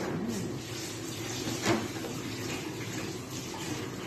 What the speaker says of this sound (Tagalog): hugasan na natin ang ating mga manok na gagamitin natin